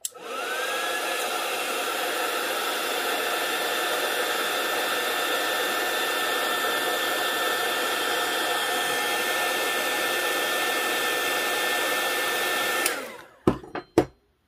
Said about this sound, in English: So I will just take my heat gun.